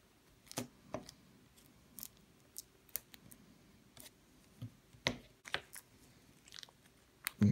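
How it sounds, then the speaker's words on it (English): Scissors snip through material while cutting out a shape for a Noise Marine miniature, giving a series of sharp, close clicks and crunches spaced irregularly with quiet gaps between them. "Cut out the shape we need."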